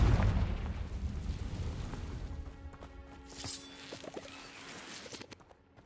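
A Confringo spell bursts in Hogwarts Legacy as a heavy, rumbling explosion that slowly fades, followed by scattered crackles and small pops of debris.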